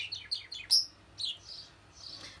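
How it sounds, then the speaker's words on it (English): Birds nesting in the eaves above a window chirp in short, bright tweets, a few scattered calls close by and moderately loud over quiet background. "There's birds nesting in the eaves just above the window."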